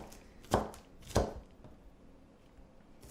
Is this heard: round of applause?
no